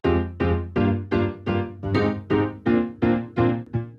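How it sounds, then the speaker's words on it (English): Kontakt 5 piano patch called The Giant, part of a future house arrangement, strikes about nine bright chord stabs in a steady pulse, each ringing briefly and fading, alone and up front. "And one piano sound from Contact 5 called The Giant."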